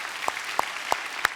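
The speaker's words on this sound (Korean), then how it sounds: "오늘 방송실에 우리 박수 한번 쳐줘야 돼요." Congregants at a Sunday worship service clap for the church broadcast team, four sharp, evenly spaced claps in a steady rhythm, each a crisp distinct smack over quiet background.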